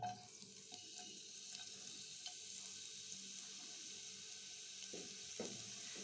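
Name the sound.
chopped onion frying in mustard and soybean oil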